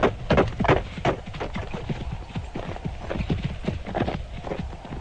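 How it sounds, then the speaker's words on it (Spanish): Horse hooves clip-clopping along a short stone causeway leading to an old house beside a dark lake, a steady walking rhythm of close, distinct hoofbeats with no talk. "cabalgué por una corta calzada que me condujo a la casa"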